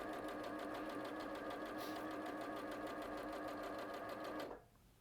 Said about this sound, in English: I'm now sewing just straight across the bottom edge.